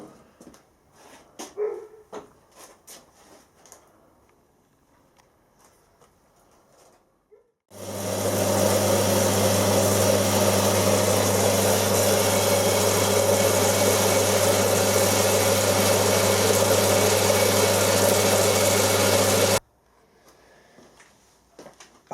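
A workshop steam engine runs with a steady, loud mechanical hum for about twelve seconds after quieter clatter and a dog barking, then cuts off abruptly.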